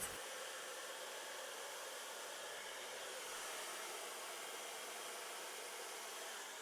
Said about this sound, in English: I've got both sides done and blow dried.